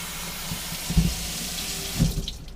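Water splashes and pours into a container, a steady running flow with a couple of louder sloshing bursts.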